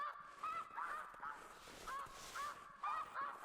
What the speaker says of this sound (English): Again, we're hearing a lot of the geese going over.